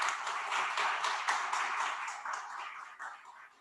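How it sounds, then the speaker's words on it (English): A small audience applauds a panel discussion at a digital nomads event in Dubrovnik, a soft, even patter of many hands heard from a distance and fading slightly toward the end. "a round of applause for the panel"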